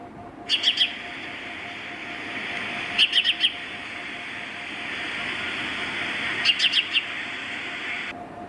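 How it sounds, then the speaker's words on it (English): Three brief clusters of sharp, high sparrow chirps spaced a few seconds apart over a steady background hum. "Sparrow,"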